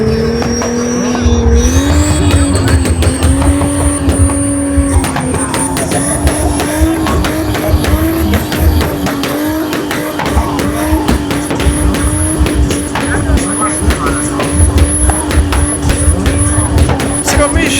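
A lowered car with no tyres at all drives at night, its engine note steady and close while metal scrapes and rattles against the road in continuous clattering bursts.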